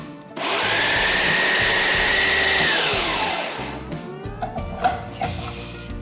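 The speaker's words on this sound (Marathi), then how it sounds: "इथे माझ्याकडे फूड प्रोसेसर आहे म्हणून फूड प्रोसेसरमध्ये वाटून घेऊयात" A food processor grinds paneer into a paste, starting with a loud, steady high-pitched motor whir that holds for a couple of seconds, then winds down into rattling and knocking as the blades slow and stop.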